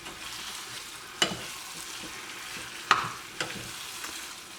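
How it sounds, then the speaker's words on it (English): Green bean curry with coconut cream, Sri Lankan style, sizzles in a pan under a steady hiss while a spoon stirs it, giving three distinct knocks against the pot. "and give it a good stir."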